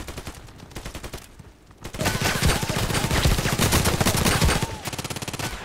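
Gunfire in the Contract Wars online shooter, rapid repeated shots that start as a quieter burst and then become a loud, sustained automatic barrage, ending with a few more rapid shots.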